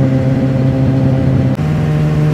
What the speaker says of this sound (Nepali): धेरै पछि दिनमा बाइक चलाएको यार